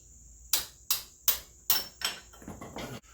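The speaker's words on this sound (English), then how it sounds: "I'm going to use a hammer and just tap it down and see if I can break them loose that way." A hammer taps a 15mm wrench to break loose a bolt on an Escalade wheel hub, giving five sharp metallic strikes at a steady rhythm, then a quicker cluster of lighter knocks, close and loud.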